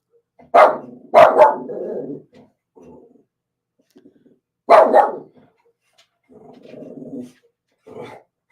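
A dog barks in loud, sharp bursts, two quick barks followed later by another, with lower grumbling vocal sounds and pauses of near silence between them.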